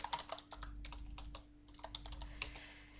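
Quick taps on a computer keyboard entering a command in a text-based MUD game, a close, faint run of irregular clicks in short bursts with brief pauses, over a low steady hum.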